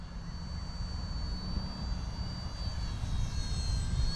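A steady engine whine with a high tonal hum from an Esky 150EC mini RC helicopter in flight, constant and fairly close, blended with low rumbling wind noise throughout.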